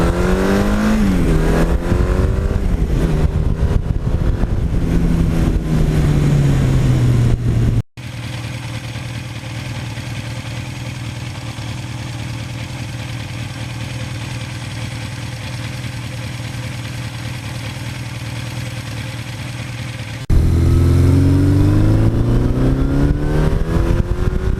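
A 1982 Suzuki GS1100E motorcycle engine runs steadily, a loud smooth hum holding for a long stretch, with revving that rises and falls in pitch at the start and end.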